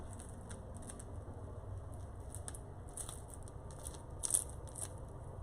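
Bread being cut or bitten into, producing a series of short crisp crunches and crackles, faint and close in a quiet room, with no talking.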